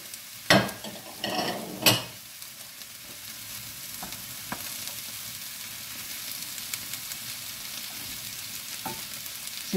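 Courgettes sizzle steadily as they fry in a pan, with a few sharp scrapes and clacks of stirring near the start before the frying settles into a soft, even hiss.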